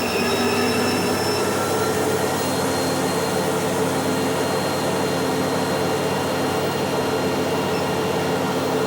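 A Fitlogic ET1601 treadmill running at its maximum speed of 20 km/h gives a loud, steady whirring hum with a broad hiss of motor and belt noise, unbroken and constant throughout.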